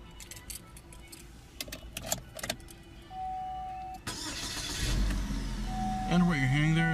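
Keys jangle inside a 2017 GMC Terrain before its 2.4-liter four-cylinder engine cranks, catches and settles into a steady idle, heard from within the cabin.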